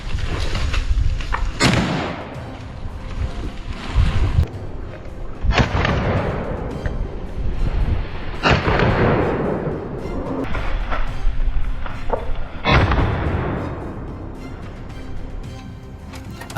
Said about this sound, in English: After the thunder of gunfire